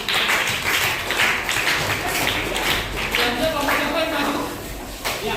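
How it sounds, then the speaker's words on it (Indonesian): A room of participants claps for the Thailand group during a teacher-training class presentation, a steady wash of applause lasting throughout with voices mixed in underneath. "Kasih tepuk tangan untuk kelompok Thailand."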